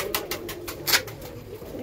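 A pigeon for sale coos repeatedly in short rhythmic bursts, close and fairly clear against steady background noise.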